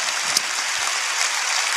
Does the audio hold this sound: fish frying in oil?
no